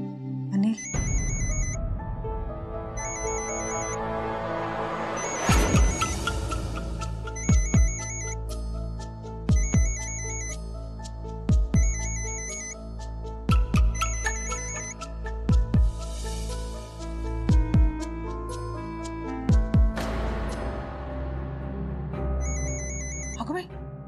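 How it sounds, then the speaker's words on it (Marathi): A mobile phone ringtone repeats in short, regular bursts inside a home in a Marathi TV drama, heard over a continuous music score with speech mixed in. "अनिल रावांचा फोन आहे"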